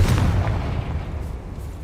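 Confringo fire spell explosion in the video game Hogwarts Legacy, a single deep booming blast with a rumbling tail that fades over about two seconds.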